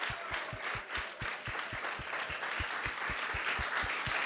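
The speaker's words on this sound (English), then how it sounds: "let's give them a big round of applause and thank them" An audience at a Krishna Katha gathering claps in a steady, even rhythm, each clap landing as a distinct beat about four times a second, with a wash of crowd noise underneath.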